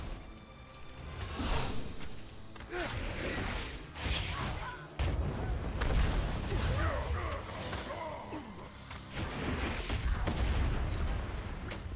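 Repeated booming cannon shots and crashing blasts in World of Warcraft: Battle for Azeroth, Kul Tiras, coming in irregular bursts under voices talking.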